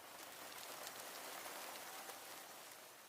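Steady rain falls in the Serra da Aboboreira, a dense, even hiss of drops on surfaces that holds at a constant level throughout with no voices.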